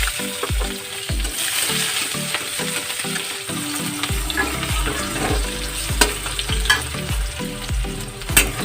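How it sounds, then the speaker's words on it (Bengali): Chopped onion with green chillies fries in a pan for a fish-head rice dish, a loud close sizzle broken by repeated scraping stirs of a spatula against the pan. "পেঁয়াজটা ভাজা হয়ে আসলেই"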